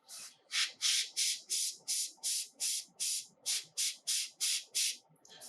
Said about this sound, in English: spraying a little bit of the almost a watercolor mix, and then using the airbrush to air dry